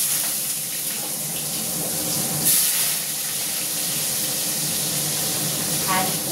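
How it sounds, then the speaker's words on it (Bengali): Panch phoron five-spice sizzles in hot oil in a wok as a loud, continuous hiss with a brief sharper flare midway, and a voice is faintly present at times. "একটু পাঁচফোড়ন সম্বাদ দিয়ে দিলাম"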